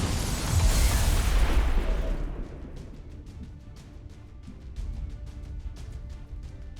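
A rocket explodes and blows up a car in XCOM Long War of the Chosen: a loud, heavy blast roars for about two seconds, then fades into a long tail of crackling debris and scattered pops.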